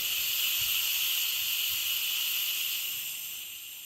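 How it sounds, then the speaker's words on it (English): Steam hissing from a pressure cooker release valve after boiling eggs, a steady close hiss that holds for several seconds, then fades slightly toward the end with no talking. "if you turn this, you're going to get steam. That's the pressure that's inside of it."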